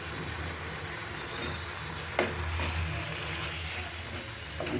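Local chicken going into hot oil for a ash gourd chicken curry, a steady low sizzle and hiss throughout with a brief clatter near the middle, and no voices.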